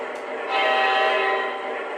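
A Batten Kill Railroad model train sounds a steady, loud horn blast for about two seconds, rising in strength midway, with a faint voice in the background.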